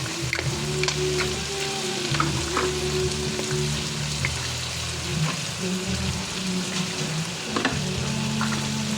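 Mussels sizzle and fry steadily in a hot pan, a close, continuous crackle with occasional stirring clinks and scrapes, and no speech over it.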